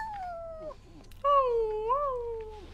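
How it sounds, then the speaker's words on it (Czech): Cats in The Sims 4 video game let out two long, clear meows, one short and one drawn-out and wavering, close and loud against a quiet background. "To jsou kočičky."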